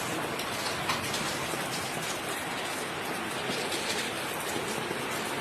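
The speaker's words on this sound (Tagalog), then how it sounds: "Ang lakas ng ulan." Heavy rain from Super Typhoon Uwan in Bicol, Philippines, a dense, continuous hiss of downpour pounding steadily on surfaces, close and loud with no voices.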